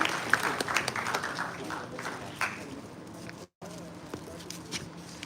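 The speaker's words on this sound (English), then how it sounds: "a round of applause for yourselves" Audience applause at a Rashtriya Raksha University ceremony in India, a moderately faint, steady patter of many hands clapping across the hall, with a brief dropout partway through.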